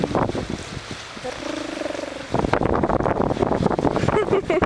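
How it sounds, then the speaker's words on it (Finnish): Strong wind blows during outdoor kite flying at Suokki, roaring steadily against the microphone and gusting harder in the second half, with a brief voice-like tone partway through. "Tuulee niin paljon."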